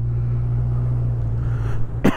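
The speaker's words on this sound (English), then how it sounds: "Excuse my coughing." A single short cough bursts out near the end, close and loud, over the steady low idle drone of a Honda CB1000R Black Edition motorcycle.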